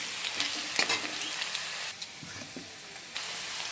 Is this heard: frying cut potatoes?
yes